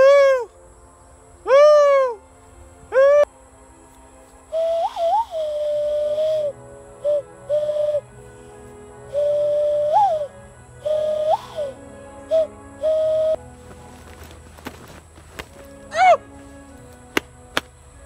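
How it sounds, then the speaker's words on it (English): Crow call being blown by a hunter to draw in crows: a few loud, sharp caws at first, then a run of steady tonal blasts and short bursts with pauses between them, close by and with no talking. "If I can just nail the right call combo, I can get all the crows out to me."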